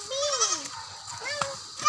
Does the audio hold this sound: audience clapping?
no